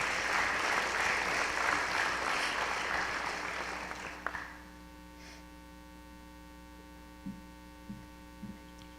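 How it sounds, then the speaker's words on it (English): An audience at a high school senior honors night claps for an honored student, with dense applause filling the first few seconds and then fading away, leaving a steady electrical hum and a few soft thumps. "You can clap on that."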